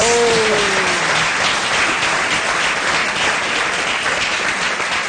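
Audience applause on a TV variety show after a birthday song, loud and sustained clapping from a large crowd, with a brief voice trailing off at the start.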